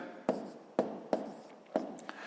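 Numbers written by hand on paper, several quick pen strokes and taps in an irregular rhythm, close and faint.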